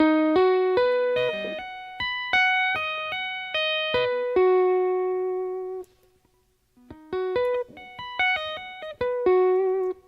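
Electric guitar playing a riff slowly, clear sustained picked notes in a stepping melodic pattern, a brief pause midway before the phrase repeats, loud and close with no talk.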